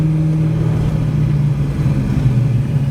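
A Pontiac GTO with an LS engine pulls under acceleration, giving a deep, steady exhaust drone with a low rumbling undertone heard from close by and no talking over it.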